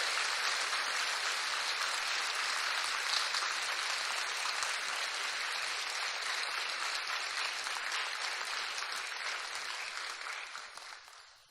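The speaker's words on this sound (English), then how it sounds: "Let's give them all a big round of applause." A crowd at the 2014 Miss Strassenfest pageant claps in a long, dense round of applause for the contestants, steady and full before tapering off at the very end.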